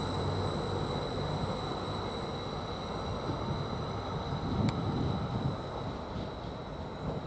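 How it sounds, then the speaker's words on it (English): A Greater Anglia train to Ipswich pulls out of Bury St Edmunds station, a steady low rumble of wheels and engine with a faint high whine and a brief metallic tick, heard from the platform. "Now the 11:01 so from Pixabay to Ipswich, which is Greater Anglia, just now departing."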